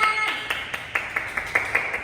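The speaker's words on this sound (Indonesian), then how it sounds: "Nah, tepuk tangan." A small classroom group during a microteaching session claps in a steady, evenly spaced rhythm of about nine sharp claps, moderately quiet over a faint room hum.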